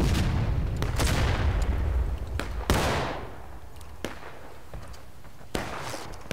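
Union artillery cannons firing in the Civil War video game War of Rights, loud booming blasts at the start followed by several sharper distant reports and rolling echoes.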